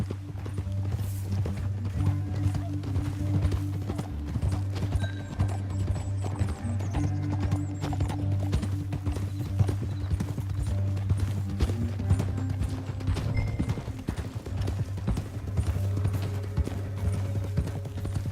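Horses gallop in Red Dead Redemption 2, a steady rhythmic clatter of hooves continuing throughout alongside a low rumble and occasional bits of other noise.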